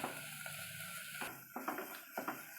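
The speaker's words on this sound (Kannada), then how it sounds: "ಫ್ರೈ ಮಾಡ್ಕೊಳ್ಳೋಣ." Spiced masala with salt and chilli powder frying in a pan for tomato jeera bath, a soft continuous sizzle broken by light stirring taps and scrapes of the spoon against the pan.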